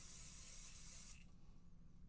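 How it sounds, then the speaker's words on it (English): Pixie spray hisses from a can onto a craft stencil in one continuous close spray of about a second, then cuts off, leaving quiet room tone. "I am going to take some pixie spray, because this stencil is a real doozy"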